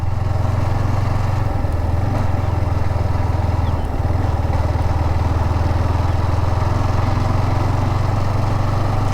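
A motorcycle riding toward a beach, its engine droning loud and steady with a low rumbling pulse and rushing wind noise close to the rider throughout.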